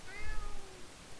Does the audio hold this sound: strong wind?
no